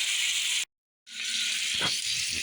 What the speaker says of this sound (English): it's time to sear up the steak